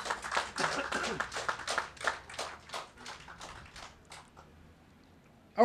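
Applause from a crowd at a water project completion ceremony, a burst of claps that is strongest at first and then thins out and fades, ending in near quiet.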